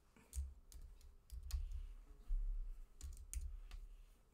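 Text is typed on a computer keyboard while working in design software. Quick bursts of close keystrokes arrive in a few groups, with thuddy low-end knocks and short pauses between them.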